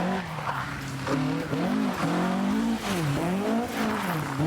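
Ford Escort RS 1600 rally car with a Cosworth BDA engine, its engine note rising and falling repeatedly over continuous tire squeal as it is driven hard, loud and close.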